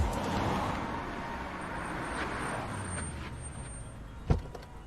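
Car traffic idles and rumbles in a city traffic jam during a film scene, a steady low road drone with a brief sharp knock near the end, moderately distant.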